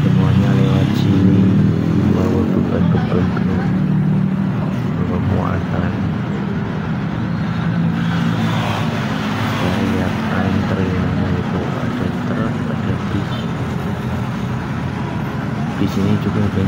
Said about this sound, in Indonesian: Kalau malam di sini ramai banget, mobil-mobil besar pada lewat.